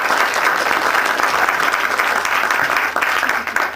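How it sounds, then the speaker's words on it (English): Audience applause at an astronomy day talk, a dense, steady burst of many hands clapping throughout, fairly loud and fading slightly at the end. "Please give him a round of applause."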